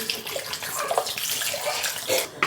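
Plain tap water is poured into a blender for a smoothie, giving a short, close splashing gush that carries on for a couple of seconds without any talking.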